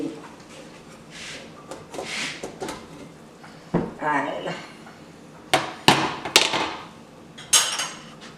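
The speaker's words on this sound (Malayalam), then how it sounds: "ഞാൻ എന്താ കുക്കർ തുറക്കാൻ പോവാണ് കേട്ടോ" A home pressure cooker of chicken curry is opened, giving several sharp metallic clanks and scrapes of the lid and pot at close range, mixed with a speaking voice.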